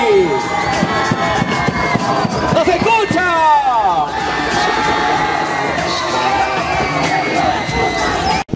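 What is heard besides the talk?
crowd clapping and cheering for pageant candidate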